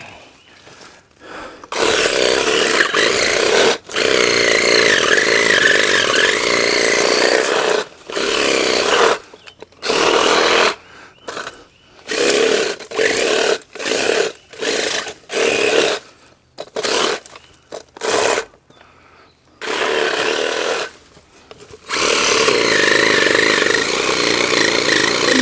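A chainsaw that floods out and may need a new spark plug runs loud and close, its engine revving steadily, then sputtering and cutting in and out repeatedly before roaring back.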